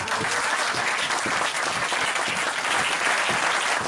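Church congregation applauding loudly and steadily, a dense wash of many hands clapping that fills the space without pause throughout.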